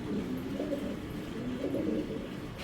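A racer pigeon coos in low, rolling, repeated phrases, fairly quiet and close, with a soft steady background and no speech.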